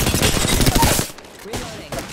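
Rapid automatic gunfire in the video game Apex Legends, a loud close burst of quick shots lasting about a second, then a quieter pause with a couple of fainter shots.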